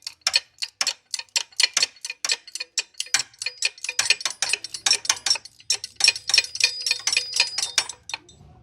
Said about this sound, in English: so ratchet wrench will have to work